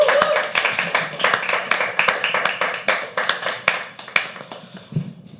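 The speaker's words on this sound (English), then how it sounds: "Guys, round of applause for Yashika" Small audience at a live poetry open mic clapping by hand for a performer, a loose patter of separate claps with some sharper individual hits, close by and thinning out toward the end.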